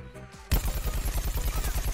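Rapid automatic gunfire in Plants vs Zombies Garden Warfare, starting abruptly after a quiet moment and continuing as a steady, evenly spaced stream of close, loud shots.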